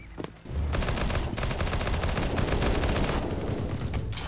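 Dense, continuous automatic gunfire and rapid shots from a CS:GO competitive match, loud and sustained after a brief quiet start, with no talking.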